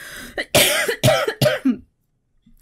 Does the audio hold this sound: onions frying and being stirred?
no